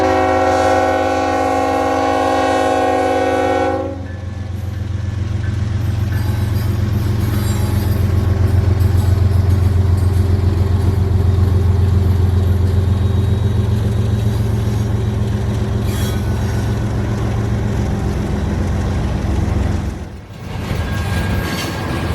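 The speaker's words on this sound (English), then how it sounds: "B631 would round the corner at restricted speed, as the signal problem was still in effect for them." A freight unit train, B631, passes at restricted speed in North Georgia, opening with a loud, sustained horn blast that gives way to a steady, heavy rumble of railcars rolling close by.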